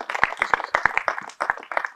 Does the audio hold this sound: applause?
yes